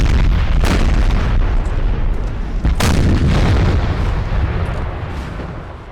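Heavy cannon fire in the Napoleonic battle game Napoleon Total War: deep booms and rumbling blasts, with sharp reports near the start and midway, roll over a continuous low battle din with no talk.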